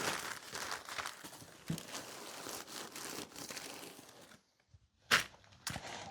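Packing paper crinkles and crumples as a fragile item, already in bubble wrap, is wrapped for a house move. The rustling is close and steady, then pauses and ends in a few sharp crinkles, with no talk.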